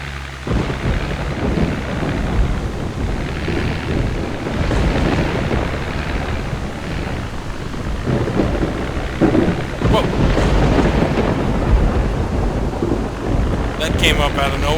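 Loud thunder rolls and rumbles through a heavy storm with steady rain and wind in the Project Zomboid video game, a continuous dense roar with swelling crashes.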